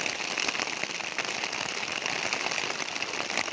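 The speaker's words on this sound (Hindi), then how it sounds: "बारिश का लुत्फ उठाइए" Steady rain falls on a home garden of potted plants, including roses, coleus and hibiscus, a dense continuous hiss and patter with no voices.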